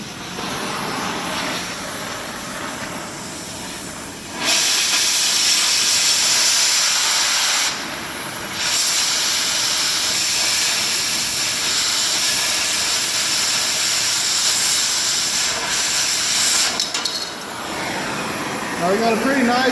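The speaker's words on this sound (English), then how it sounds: "Now let's cut some metal." A cutting torch slices through metal with a steady, loud roaring hiss, briefly dropping and surging as the flame is adjusted, continuous and close throughout.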